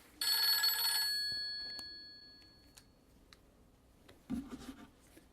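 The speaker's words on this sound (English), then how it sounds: "You're sitting at home and the phone rings." A telephone at home gives one bright, ringing bell burst that decays slowly, followed by quiet handling and a few soft knocks and rustles.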